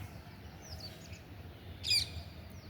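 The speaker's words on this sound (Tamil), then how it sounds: "இந்த ஒரு குருவி, இதுக்கு பேர் தெரியல, ஆனால் வருவாங்க, சாப்பிட வருவாங்க." A small sparrow-like bird on a rooftop garden gives a few faint chirps, then one brief, clearer tweet near the end, over a quiet outdoor background.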